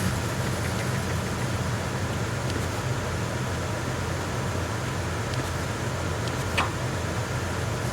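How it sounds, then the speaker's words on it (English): A steady, droning hum of engine room machinery aboard a tanker in Metal Gear Solid 2 runs evenly throughout, with a low idling throb and a few faint ticks. "Engine room's noisy."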